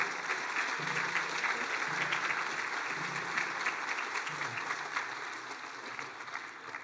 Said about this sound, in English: can we get some applause for the parents? Applause for the students.